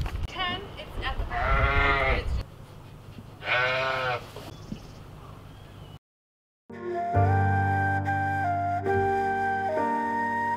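Sheep in a livestock holding pen bleat in a few loud, wavering calls, with people talking nearby between and after the animal cries.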